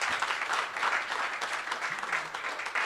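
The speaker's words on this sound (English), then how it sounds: "Ladies and gentlemen, please, one more round of applause" Steady applause from a lecture audience at a congress fills the whole stretch, dense and continuous with no pauses, at a moderate distance.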